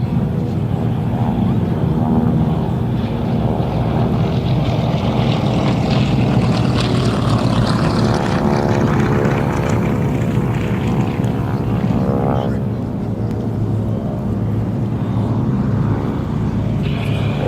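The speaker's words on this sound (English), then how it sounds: "Rob Gilman in the Vultee BT-13." A Vultee BT-13 propeller trainer flies at the Geneseo air show, its radial engine droning loud and steady throughout, with a pitch sweep as it passes close by.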